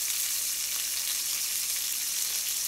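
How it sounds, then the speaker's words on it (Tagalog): Homemade hamburger patty frying in hot oil, with a steady, close sizzle and fine spattering crackle of grease, continuous and even with no voices. "Greasy niya. Wow. Tumatalsik-talsik yung mga mantika niya."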